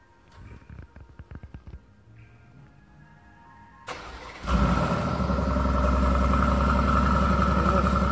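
A 2019 Aston Martin Vantage engine starts up. A few quiet clicks lead into a sharp loud crank and a roaring catch, which then settles into a strong, steady idle held close to the car.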